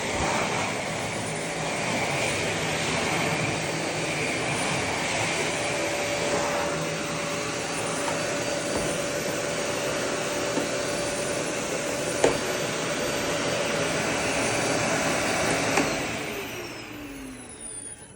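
A small Eureka bagless vacuum cleaner on its high setting whines loud and steady close by, sucking up dog hair, then winds down toward the end.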